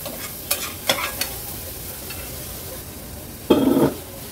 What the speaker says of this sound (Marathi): वाटण पण तेलावर छान परतून घेतलं आहे